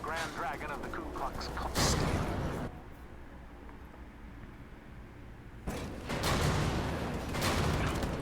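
Gunfire aimed at the player in a video game, heard in loud bursts of rapid shots near the start and again toward the end, with quieter stretches between, mixed with game noise.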